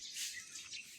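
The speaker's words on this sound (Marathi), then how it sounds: "पक्ष्यांचा आवाज." Birds chirping in a quiet village lane after rain, soft high tweets in a brief, faint burst.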